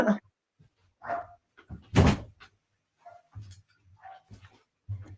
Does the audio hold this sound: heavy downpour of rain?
no